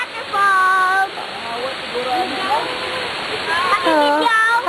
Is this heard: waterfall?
yes